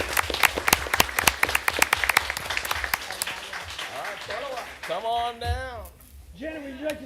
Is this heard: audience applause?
yes